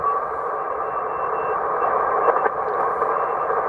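Steady radio static carries a faint keyed tone of a ham operator sending a call sign beginning with K, during a Parks on the Air activation, with a couple of brief clicks midway and no voice.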